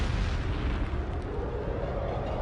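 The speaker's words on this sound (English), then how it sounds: "These monsters were capable of firing rocket-powered shells filled with incendiary liquids, lethal chemicals, or even high explosives." A Nebelwerfer 41 rocket launcher firing rocket-powered shells: a loud, continuous roaring rumble with broad noise and no distinct gaps, heard alone without voices.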